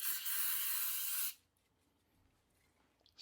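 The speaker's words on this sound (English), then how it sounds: "Spray it on there." A brake cleaner aerosol sprays onto a Traxxas E-Revo 2.0 RC car hub in one loud, close hissing burst of just over a second, which cuts off sharply and leaves near silence.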